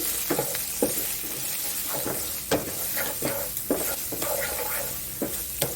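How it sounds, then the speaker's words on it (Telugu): Dried and green chilies, mustard seeds, cumin, chana and urad dal, and curry leaves frying in oil, a steady sizzle broken by rhythmic spatula scrapes and taps about once a second, close up. "ఎండి మిరపకాయ పచ్చిమిరపకాయ ఆవాలు జీలకర్ర శనగపప్పు మినపప్పు కరివేపాకు అన్నీ వేసేసుకోవాలి వేసుకొని నెమ్మదిగా ఫ్రై చేసుకోవాలి"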